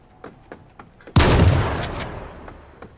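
Burst of gunfire in the survival video game H1Z1, a sharp loud blast followed by a decaying rattling tail, after a few faint scattered distant shots.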